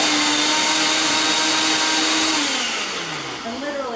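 A personal blender whirs loud and close for a few seconds while blending fish taco sauce, its steady motor whine falling in pitch as it winds down.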